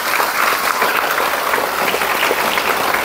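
A loud, dense burst of audience clapping fills a celebration program hall, steady and sustained throughout with no voices over it.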